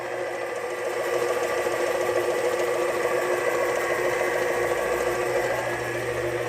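A homemade air compressor fed by two tanks and driven by a slow electric motor runs steadily, giving a continuous close mechanical drone with a fast rhythmic chatter and no breaks.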